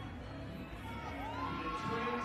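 Home crowd at an ice climbing World Cup speed final in Longmont, USA, cheering and shouting steadily throughout, a dense continuous roar with some higher voices rising near the end.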